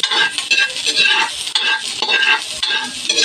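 Onions fry in oil in a pan for pancit canton, giving a dense, close crackling sizzle that pulses steadily with stirring scrapes and no talk.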